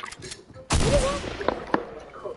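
Gunfire from a launcher in a PS5 shooter game: one loud burst that decays, then a few sharper shots, mixed with game noise and some talk.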